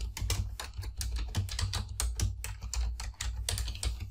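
Rapid typing on a computer keyboard, a dense run of close, crisp key clicks in an uneven rhythm with a low hum underneath and no one speaking.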